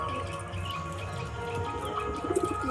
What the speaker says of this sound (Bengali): ওই কালো পায়রার মাদিটা যেটা ডাকছে দেখো ওই সাইডে